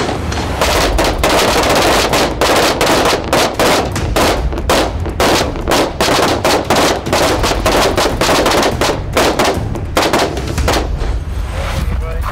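Rifle gunshots fired from a kneeling position during a timed outdoor shooting drill, a loud, dense series of sharp cracks and reports layered over one another, with no quiet gaps between them.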